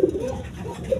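Red checker racer pigeons in a loft cooing softly, a low throaty rolling coo at close range, brief and steady.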